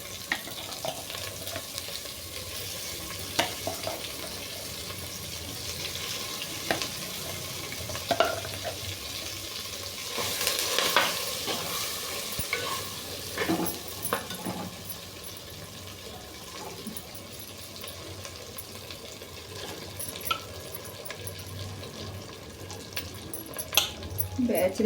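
Carrot chutney stirred into a sizzling tempering in a pan, a steady close crackle of frying with scraping stir strokes. A voice speaks now and then over it.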